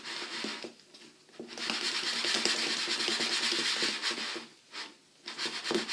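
A spoon mixing Christmas biscuit dough in a bowl makes scraping, rasping strokes in bursts, with short pauses between passes, close up and moderately loud.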